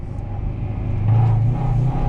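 A 1995 Acura Integra GSR with a manual gearbox, heard from inside while driving: a steady low engine rumble that swells into a louder rev about halfway through, then holds, with no talking.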